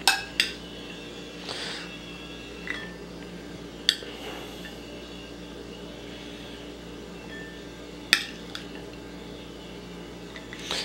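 A metal spoon scoops freshly cooked beef from a pot. It makes scattered clinks and knocks against the sides over a soft, wet background hush, with long gaps between the sharper hits.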